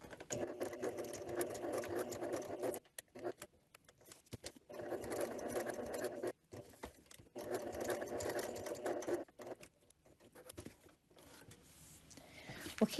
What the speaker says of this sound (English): So let's go ahead and continue the stitching.